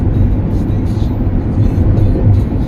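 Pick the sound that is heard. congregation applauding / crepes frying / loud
loud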